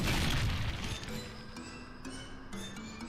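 A fire spell bursts in a Final Fantasy IX battle, opening with a loud rumbling blast that settles into bright chiming, glassy game tones and steady pulsing music, with no talking.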